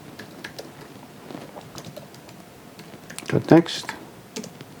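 Code being typed on a computer keyboard, a quick patter of light key clicks with a louder burst of keystrokes near the end, heard close and under a person talking.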